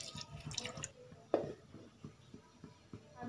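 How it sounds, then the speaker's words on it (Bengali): A little water trickles and drips into a ginger, green chilli and tomato spice mixture for grinding, giving soft, quiet splashes and a few faint droplets close by. "দেব সামান্য জল।"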